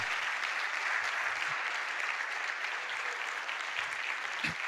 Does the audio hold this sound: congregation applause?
yes